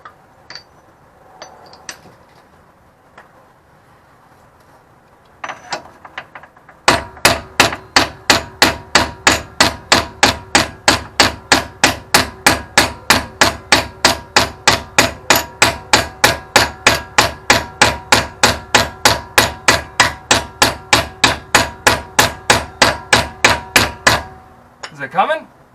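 A hammer knocks a rear wheel bearing out of an independent-rear-suspension VW Beetle hub, striking in a long, steady run of sharp metallic blows after a few quieter taps.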